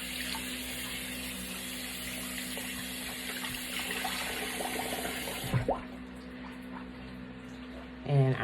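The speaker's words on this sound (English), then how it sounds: "And then rinse that towel off again." Running tap water rinses a towel at a sink, a steady broadband wash that carries on for over five seconds, then the flow cuts off, leaving quieter handling sounds and a brief splash at the end.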